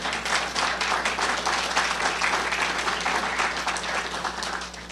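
A room full of people gives sustained, loud applause for about five seconds, a thick, even patter of clapping that tapers slightly at the end, following a speech about ending genocide.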